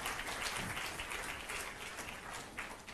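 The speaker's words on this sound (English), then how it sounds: "I thought the applause would have been more louder." Applause from an audience at a university event honouring an emeritus professor of surgery, steady and fairly dense throughout with no voices over it, moderate in level.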